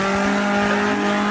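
An old Ford doing a burnout: a loud, steady engine roar with a sustained tire squeal, close and unbroken for a moment with no talking.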